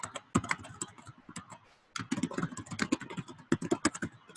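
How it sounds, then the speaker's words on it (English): Rapid keystrokes on a computer keyboard in bursts of typing, close and fairly quiet, with a brief pause near the middle before the clicking resumes. "And then I'm going to type in the exact same text."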